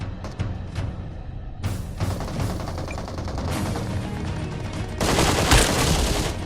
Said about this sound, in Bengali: সামনে দেখলাম একটা এনিমি আমার ফায়ার দিল